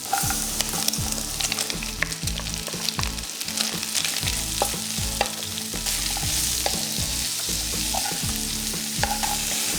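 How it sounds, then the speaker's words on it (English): Garlic and onion fry with bacon in a pan for a cream tteokbokki, giving a close, steady, hissing sizzle broken by repeated scraping and knocking stirs throughout, with no voices. "now let's add in the garlic and onion to this bacon goodness"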